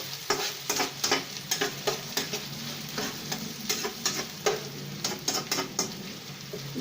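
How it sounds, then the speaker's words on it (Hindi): Onions fry in a pan for a potato curry, sizzling steadily while a utensil stirs them in a quick rhythm of repeated scraping strokes, close and fairly loud, with no talking. "ये पहले प्याज को हम थोड़ा सा जो है ना ब्राउन कर लेंगे।"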